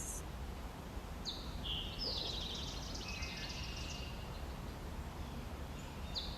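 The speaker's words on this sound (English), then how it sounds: "Listening to the sounds of the birds." Birds chirping at a lakeside, a few short high calls scattered over a soft, faint background hiss, quiet and distant.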